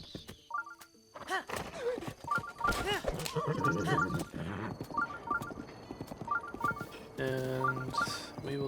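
Horse hooves clip-clopping in a steady trot with a whinny, from the video game The Legend of Zelda: Breath of the Wild, mixed with chiming game sound effects and music over several seconds.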